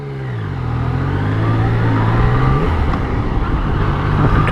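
Yamaha Tracer 900 GT motorcycle pulling hard on a twisty road, its engine note climbing steadily and then stepping up through the gears with a quick shifter, heard close with wind rush and no talk.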